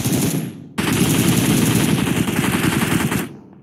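Rapid automatic gunfire in PUBG Mobile, a loud dense burst that breaks off briefly, then a sustained stream of shots for nearly three seconds before cutting out.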